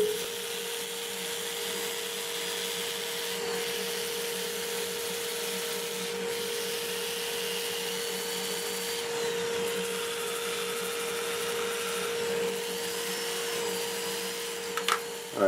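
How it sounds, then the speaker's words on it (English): A workshop dust collector runs as a continuous, even drone with a steady tonal hum, moderately loud and alone, with no pauses over the whole stretch. "So I'll get the dust collector started, show you some of this."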